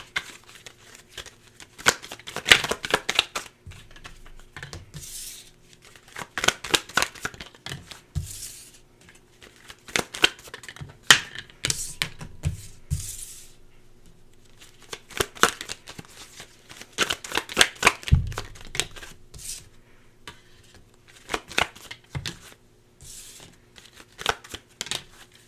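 Tarot cards are shuffled by hand in repeated bursts of riffling and flapping, with short pauses between rounds, close and fairly quiet throughout.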